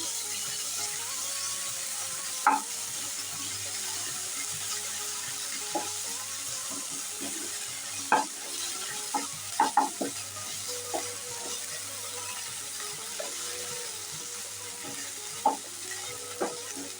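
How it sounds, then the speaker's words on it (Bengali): Ginger-garlic and chili paste fries in a pan for a squash curry, a steady, close sizzle broken by occasional sharp clinks and scrapes of a stirring spoon, no talking. "আদা রসুনটাকে একটু ভালো করে নাড়িয়ে ভেজে নিয়েছি"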